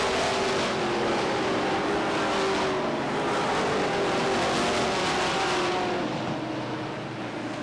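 Race cars roar around Beech Ridge Motor Speedway during 1993 weekly racing, a steady loud engine drone with rising and falling pitch as the pack circles near the end of a race.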